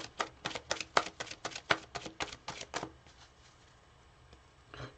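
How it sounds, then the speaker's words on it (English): Tarot cards are shuffled in about a dozen quick crisp riffles, each a sharp papery burst, for roughly three seconds before the sound fades into a quiet room. "Cards are already well shuffled."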